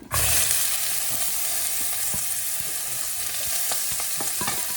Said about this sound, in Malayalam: ഇനി നമുക്ക് ഈ സെയിം എണ്ണയിലോട്ട് തന്നെ നമ്മൾ അരിഞ്ഞു വെച്ചേക്കുന്ന സവാള ഇട്ട് കൊടുക്കാം